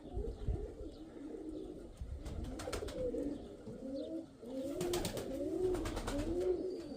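Pigeons coo repeatedly in low, rolling calls, several birds overlapping over a steady outdoor background with occasional flutters and clicks.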